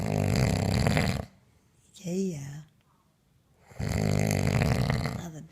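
A man snores in long, loud, rasping breaths with a pause between them, and a short voiced sound falls in the gap.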